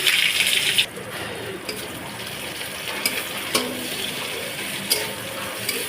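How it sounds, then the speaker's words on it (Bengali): Steady sizzling of chopped onions frying in oil with dried chillies and bay leaves, louder for the first second then settling into a continuous crackle with occasional soft clicks and stirring scrapes. "পেঁয়াজটা আমি একটু ভাজা ভাজা করে দেব"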